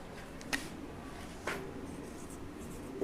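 Quick strokes of writing on a board during a biology lesson, a few short scratchy marks spaced apart over faint room hum.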